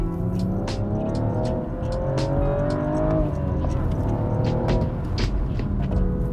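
A loud BMW M135i engine hums steadily throughout, pitch rising and falling as it accelerates, with brief sharp bursts and faint voices underneath.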